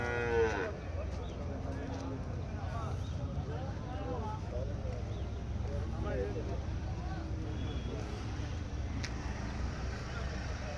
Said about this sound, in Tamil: எங்கள் சந்தைக்கு இன்றைக்கி எருமை நிறையா வந்துருக்குது.